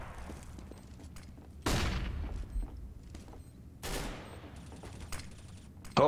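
Gunfire in CS:GO, two loud bursts of rapid automatic shots a couple of seconds apart with quieter game ambience and a few shots between, close and punchy, no voices.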